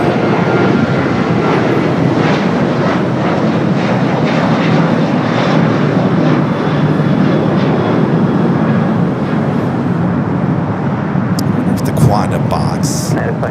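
An American airliner roars as it takes off from runway 25 right at LAX, a dense continuous engine rumble filling the whole stretch, with radio voices talking over it.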